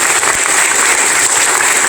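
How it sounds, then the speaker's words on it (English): Audience at a Rodney Davis political event applauding steadily, a dense wash of clapping hands filling the room without pause for about two seconds. "Please help me give my team a round of applause for putting this on."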